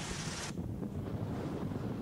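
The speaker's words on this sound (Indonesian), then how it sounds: "Deru angin di mana-mana." A storm at sea roars with steady gusting wind over the rush of high waves, a constant dense wash of noise with no voices.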